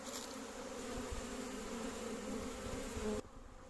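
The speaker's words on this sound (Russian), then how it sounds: "Видим, тоже пчелки потихоньку стали из нуклеусов вылетать, облетываться." Young honey bees buzz steadily around nucleus hives at an apiary on orientation flights, a dense continuous drone close by that cuts off abruptly near the end.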